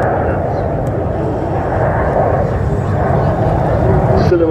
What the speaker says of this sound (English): The lovely sound of 4 Rolls-Royce Bristol Olympus engines